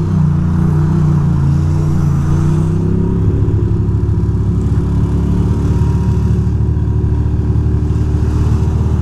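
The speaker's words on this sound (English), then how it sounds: "Oh boy, it's like dead traffic." Slow, stop-and-go New York City traffic heard from inside a vehicle, a steady loud engine drone and road rumble that shifts pitch partway through, with no talk.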